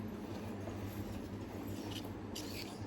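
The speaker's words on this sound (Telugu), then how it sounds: "ట్రైన్ ఇట్లా ఏమన్నా వస్తే" A train passes near a house in India, giving a steady, continuous low rumble with a faint hiss on top that holds evenly throughout, with no voices.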